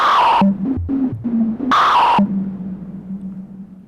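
A Labyrinth synthesizer plays a resonant, high-passed pitched noise tone in short stepped notes that shift between bright and dull, then settles into a sustained steady hum.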